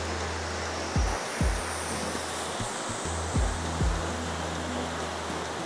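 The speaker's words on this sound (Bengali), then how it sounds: "চলে এসেছি ঝর্ণার একেবারে পাদদেশে।" Ratmohana waterfall in Ghatshila, heard from its base as a constant, broad rushing roar of falling water, with a few low thumps of handling noise.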